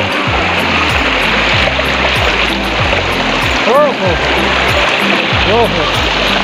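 Water flows in the Sapang Magapo stream in Inarihan, Naga City, a continuous close rushing and splashing with a rhythmic low pulsing underneath and brief vocal sounds partway through.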